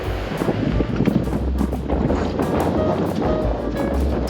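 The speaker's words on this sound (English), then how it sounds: "Wind is really picked up." Strong wind buffets the microphone on a beach, a constant rough roar with gusty surges, surf and waves mixed in beneath.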